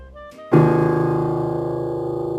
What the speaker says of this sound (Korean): 제일 아래 건반 소리입니다.